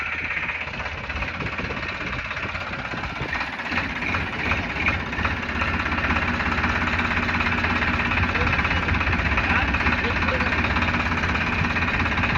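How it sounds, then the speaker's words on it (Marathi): A farm tractor loaded with fertiliser chugs as it moves off, its engine a steady low rumble that builds slightly, with a voice talking over it. "चला आता निघतो ट्रॅक्टर घेऊन बाई."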